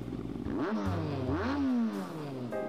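A video game car engine revs up and down in a few quick surges, the mid-pitched motor rising and falling with a brief clatter at the end.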